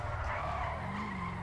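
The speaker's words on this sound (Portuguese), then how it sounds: "E depois é que a drift que eu faço, não é os drifts mais perfeitos do mundo, mas são drifts." A lowered car drifting in GTA V, with a sustained tire skid and squeal over a steady engine drone, loud and close throughout.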